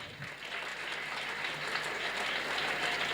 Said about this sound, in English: Then give thunder applause.